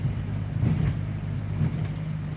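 Steady low engine and road hum from inside a moving car, a continuous near rumble with no voices.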